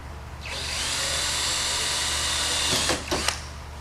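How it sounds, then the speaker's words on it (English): A power drill bores through an aluminum ring for an aircraft fuel tank retrofit kit, a steady high whine lasting a few seconds before the bit breaks through with a couple of short stutters. "I'm going to drill through one"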